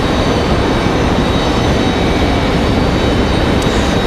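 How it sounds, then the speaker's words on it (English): A Dassault Falcon 2000 LX business jet passes by at Raleigh Durham International Airport, making a loud, continuous broadband engine roar that stays steady throughout. "So that was a Dassault Falcon 2000 LX."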